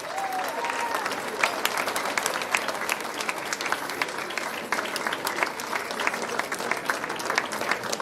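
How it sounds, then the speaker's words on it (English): Sustained applause from a large audience for the lecturer at a law valedictory session, many hands clapping in a thick, steady wash that holds at a constant level, with a hint of crowd noise underneath. "Please, another round of applause."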